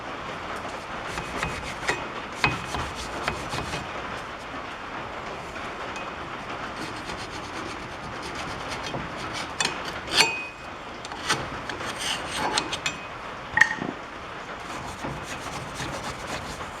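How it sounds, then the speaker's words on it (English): A wire brush scrubs light rust off the rear brake parts of a 2014 Chevy Silverado, a continuous hissing scour with a few sharper clicks and knocks scattered through, no voices. "We'll just take a wire brush, clean everything up the best we can."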